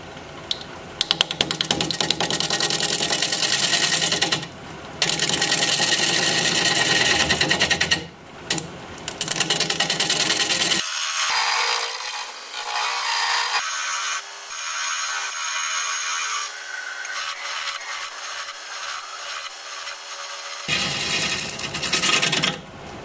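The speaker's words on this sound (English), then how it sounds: "Going to be using the same 5/8 inch bowl gouge, freshly sharpened, mask and face shield on." A freshly sharpened 5/8 inch bowl gouge cuts a rustic wooden vase spinning on a lathe at about 600 RPM, making loud continuous scraping and shearing with brief pauses, then quieter intermittent rubbing.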